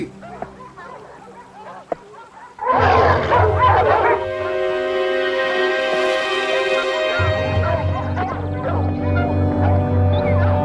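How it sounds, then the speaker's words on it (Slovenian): Hunting dogs bark and yelp in a loud, excited chorus that bursts in after a quiet start, with sustained whining howls layered over continuous barking to the end. "Moji psi!"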